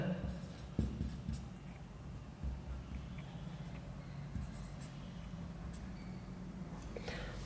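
Marker or chalk strokes on a board while a lens geometry problem is worked out, a faint scratchy scribbling with a few light taps over low room hum, no voice.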